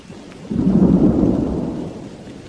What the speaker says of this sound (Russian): «Льет, как из ведра!» – закричал Арнольд, стараясь перекричать шум ливня и громовые раскаты.